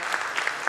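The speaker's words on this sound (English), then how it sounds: "Can we have a big round of applause for this fantastic panel session, Digital Loan Collections?" Audience applause for a panel session on digital loan collections at an NBFC industry event, a brief burst of steady, dense clapping.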